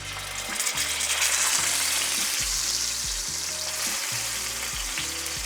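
A steak sears in a hot pan on a gas stove, a dense continuous sizzle with rhythmic low thumps as the meat is pressed down against the pan.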